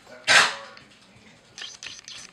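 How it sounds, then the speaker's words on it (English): A single loud dog bark sounds close by indoors near the start, followed by fainter shuffling and rustling noises. "One second, the dog came in."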